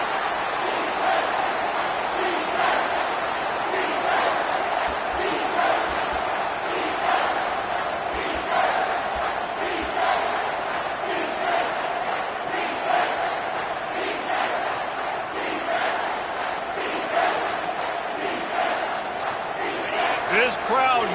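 A stadium crowd at a Clemson versus LSU college football game roars in a steady, loud wall of noise, while a commentator talks over it throughout.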